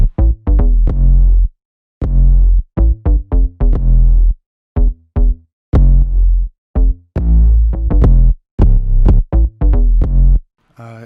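An 808 bass plays a loud, rhythmic pattern of deep, droning notes in short and sustained bursts with brief gaps, alone without other instruments, in an Ableton beat.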